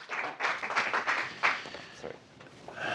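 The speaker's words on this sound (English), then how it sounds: "Round of applause" Brief scattered applause from a small audience at a group training session, a few bursts of clapping that thin out partway through before picking up slightly at the end.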